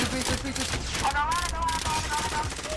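Rapid automatic gunfire from the video game Warzone crackles in dense bursts, loud and continuous throughout, with faint game effects layered over it.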